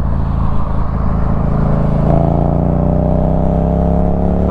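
Yamaha MT07 motorcycle engine revving up as the throttle opens, with a steady close drone whose pitch rises partway through, heard from the rider's position alongside wind noise.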